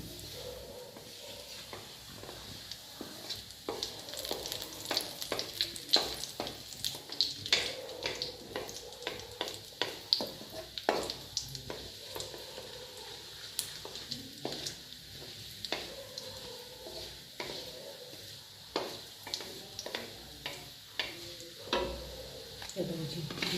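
Cumin seeds and machine-ground masala of garlic, onion, ginger and chili fry in hot oil. A steady sizzle runs under repeated stirring scrapes and clinks of a utensil against the pan, close up, with occasional voice in the background.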